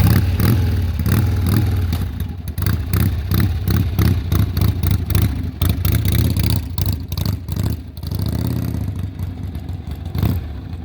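A 1970 Harley-Davidson XLH Ironhead Sportster runs loud and close, its engine pulsing with uneven lumpy beats and repeated blips of the throttle over a constant rumble, with no talk.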